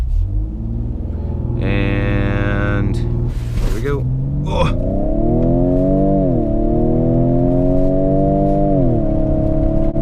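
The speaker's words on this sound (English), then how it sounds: "All right, so I'm just gonna brake torque it." A 2019 Ford Edge ST growls loudly through a brake-torque launch, engine note climbing steadily in pitch as the SUV accelerates hard, with a brief exclamation from the driver partway through.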